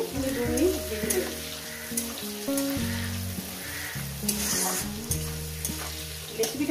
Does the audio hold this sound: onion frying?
yes